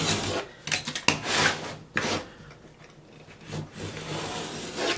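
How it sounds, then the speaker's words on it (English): A razor knife trims the wood veneer edging off a tabletop, with short scraping and rasping strokes, a few sharp clicks and rubbing sounds close to the listener, and no voices. "Trim it with your razor knife."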